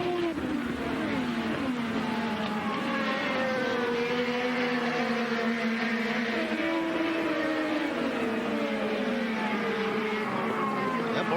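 IndyCar race cars at the 2012 Grand Prix of Alabama, several engines howling together in close battle, pitches rising and shifting steadily as they run hard through a corner, loud and continuous throughout.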